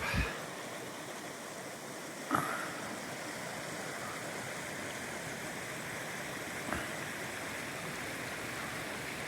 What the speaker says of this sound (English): Nice little river here